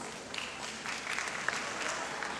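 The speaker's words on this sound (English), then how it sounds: "A big round of applause." Audience applause at a school annual day function, dense steady clapping from a crowd, moderately distant and continuous throughout.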